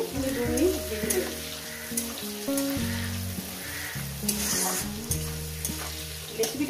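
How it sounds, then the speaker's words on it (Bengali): Onion frying in a pan for a spicy fish and potato curry, a steady close sizzle running throughout with occasional stirring scrapes, under a dense layer of background music. "পেঁয়াজটাকে দিয়ে আমি 2 মিনিট ভেজে নেব।"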